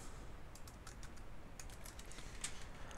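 A computer keyboard is tapped in a short run of soft, close keystrokes over a faint steady hiss, with no talking.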